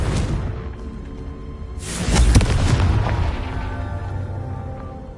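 A loud booming blast from the Confringo blasting spell in a video game bursts out after a quieter stretch and rumbles away with a rushing tail.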